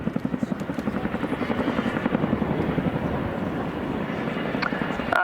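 An RAF Boeing Chinook twin-rotor helicopter flying an airshow display at RAF Cosford, its rapid rotor thudding steady and loud throughout, with a faint voice underneath.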